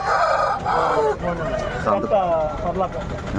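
Chickens and roosters at a Friday poultry market in Gudur cluck and crow close by, overlapping with busy chatter and market voices throughout.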